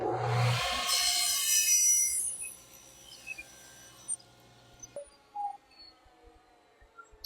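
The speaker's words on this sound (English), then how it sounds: "it is still able to cut pretty smooth on plywood" A table saw fitted with an old, freshly cleaned blade cuts through plywood in one close, loud, smooth rasping pass. The cut winds down after about five seconds, followed by a few faint bumps and handling sounds.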